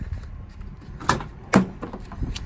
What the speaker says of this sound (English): I can open the door.